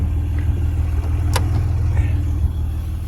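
A 1996 Acura NSX-T idles close by, a low steady engine rumble with a brief sharp click midway and no talk over it.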